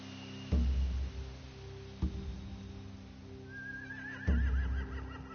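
Horses neigh in a video game scene from The Walking Dead, with a few heavy thumps and a long, shaky whinny rising near the end over a low steady background hum.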